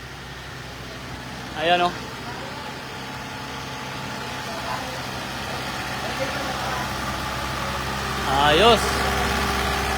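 An old car's engine idling after being started, a low steady rumble running underneath, with brief louder bursts and a person talking close by.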